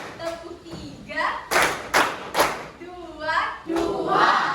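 Grade 8 students in a science classroom clap their hands in a counting exercise: several loud, sharp group claps in short sets ring out between spoken counting, close and distinct.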